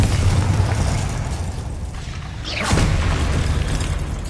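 A fiery Confringo spell blast in the Hogwarts Legacy video game, a loud sweeping whoosh bursting mid-clip over a dense, rumbling game soundscape of combat noise.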